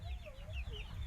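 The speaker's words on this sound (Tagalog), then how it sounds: "Yan, maraming manok." Several chickens cluck and chatter close by, with continuous low rumbling noise underneath.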